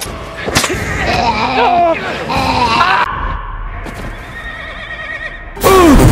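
A panicking horse in a Walking Dead game scene gives loud, close whinnies with hoof clatter and a shout, the calls repeating and ending in a sharp final neigh.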